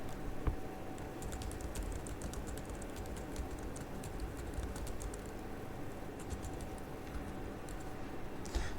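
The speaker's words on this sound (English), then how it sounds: "press the enter key on your keyboard" Someone types on a computer keyboard with quiet, scattered clicks at an uneven pace over a faint room hum.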